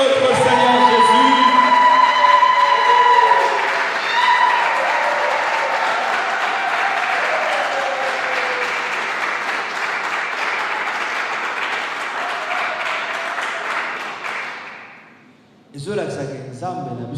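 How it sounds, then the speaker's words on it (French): Church congregation at a Sunday service bursting into loud applause, cheering and shouting, a dense roar that slowly fades toward the end before voices and clapping pick up again briefly. "on acclame très fort pour la gloire de notre Seigneur Jésus."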